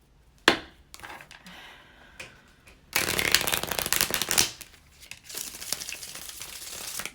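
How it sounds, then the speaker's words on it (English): Playing cards are shuffled in quick riffling bursts, with a long crisp flurry in the middle and scattered taps and flicks around it, close up. "just going to shuffle for a minute."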